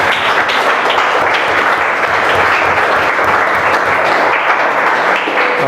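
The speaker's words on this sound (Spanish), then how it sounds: "Démosle un aplauso al Señor," Church congregation giving a loud, sustained round of applause, dense clapping from many people filling the space evenly throughout.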